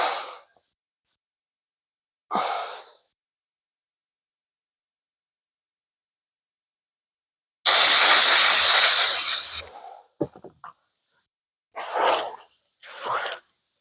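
Compressed air blasting loose paint off a Ford oil bath air cleaner, a loud broadband hiss lasting about two seconds, with shorter close bursts of air before and after separated by silence.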